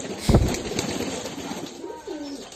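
Pigeons at a pigeon farm make soft, rolling coos close by over a grainy background, with a brief louder burst of noise at the start.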